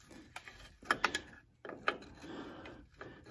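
An 8mm box-end wrench slowly working a stubborn bolt loose under a 2010 Ford F150 4x4: quiet, close metallic ratcheting clicks and scrapes in short irregular bursts, with brief pauses between.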